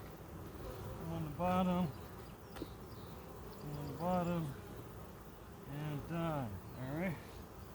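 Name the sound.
honey bees buzzing around a hive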